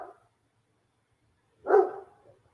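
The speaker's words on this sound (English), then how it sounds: "Where's the dog barking from?" A neighbor's dog barks once in the distance, a single short muffled woof that follows a brief earlier sound, with otherwise quiet surroundings.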